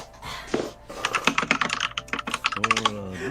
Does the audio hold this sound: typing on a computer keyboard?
yes